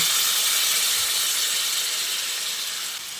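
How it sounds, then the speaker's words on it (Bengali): A small bowl of water poured into a hot pan of spiced fried rui fish curry gives a loud, steady, bright hissing sizzle that eases slightly toward the end, with no voices. "এবার আমি ছোট বাটির 1 বাটি মতো জল এখানে দিয়ে দিচ্ছি"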